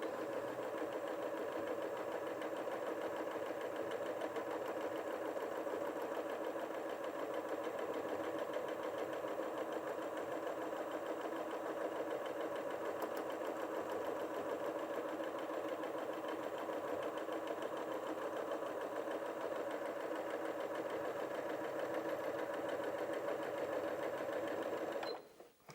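A Janome 8200QCP sewing machine runs steadily while sewing free-motion stitches, a continuous fast mechanical hum and rattle at an even pace throughout, close up, with a short clunk as it stops at the end.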